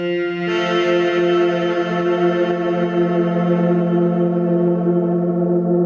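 A sustained Knobula Pianophonic wavetable synthesizer tone rings on with a long, washing reverb tail set to infinite decay, sustaining without fading, steady and loud.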